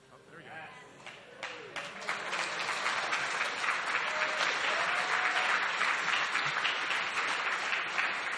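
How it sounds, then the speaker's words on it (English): An audience at the NASA Space Apps hackathon in Toronto in 2013 breaks into applause after brief talk, the clapping swelling quickly into a loud, dense, steady ovation that lasts to the end. "Can we get another round of applause for them?"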